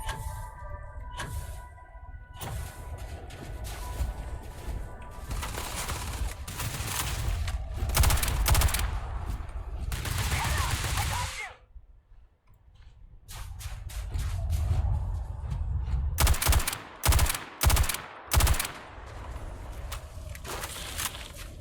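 Gunfire in the video game Starfield comes as dense volleys of loud, close shots. The bursts break off briefly, then return as a series of separate sharp blasts.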